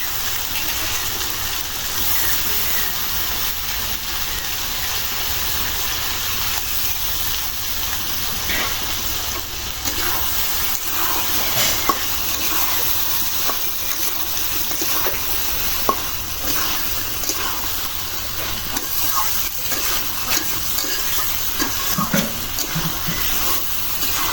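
Fresh boal and shol fish simmer and fry in a spiced pan, giving a continuous close sizzle and bubbling hiss, with occasional stirring knocks throughout.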